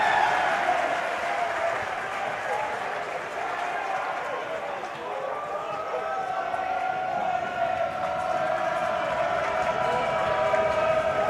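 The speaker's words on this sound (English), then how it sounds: "Listen to that crowd." A basketball crowd at a high school boys varsity game, Vandegrift versus Westlake, roars steadily during a free throw, a dense, sustained wash of cheering and noise that swells slightly toward the end.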